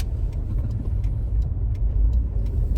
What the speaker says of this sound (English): that's a nice truck. Of course it's a Toyota.